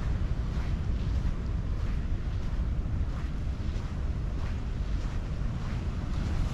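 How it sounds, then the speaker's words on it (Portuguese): Ocean waves at São Francisco do Sul rumble in a steady, loud wash mixed with heavy wind buffeting against the microphone, continuous and without speech. "Olha lá a onda"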